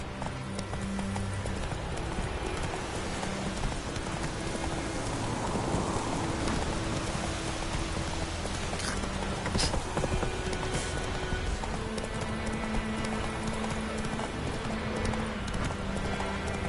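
Horse hooves gallop in a steady, continuous clip-clop through a Witcher 3 game scene, close and even, with rain and ambient game sounds underneath.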